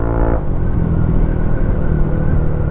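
An Aprilia SRGT 200 scooter engine is held at full throttle, a loud, close, steady rumbling drone that barely wavers throughout.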